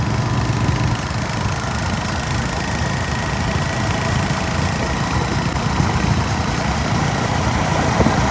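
A Royal Enfield motorcycle engine idles steadily with a loud, continuous rumble close by, a dense, unbroken mechanical drone with no talking.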